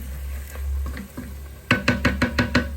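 Soft stirring and scraping sounds of egusi frying in a pot, followed by a quick series of about six evenly spaced knocks of a spoon against the rim.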